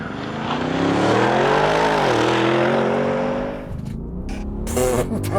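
A 2023 Audi RSQ8 launches hard, the engine roaring loud and close as it revs rising through a gear shift before the sound breaks up into wind noise.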